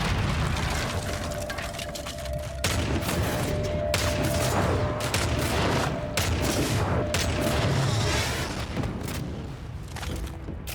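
Rapid gunfire and booming explosions from Call of Duty: Modern Warfare 3 combat, a dense, continuous barrage of close shots with heavier blasts punctuating it throughout.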